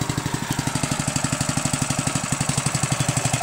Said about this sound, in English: the Honda's kind of working hard because the carburetor is not really that great